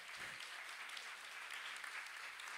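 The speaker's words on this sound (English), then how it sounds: "give a huge round of applause to our co-chairs, Kim Roddy and Brett LaPere." An audience at an Art in Bloom lecture gives a round of applause, a dense, continuous patter of clapping heard faintly and evenly throughout.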